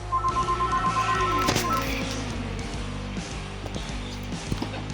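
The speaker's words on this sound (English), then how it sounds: "ignore that phone number that was getting called there" A telephone number is dialed as a quick series of DTMF keypad beeps, followed by steady repeating electronic tones and clicks, close and clear with no talking.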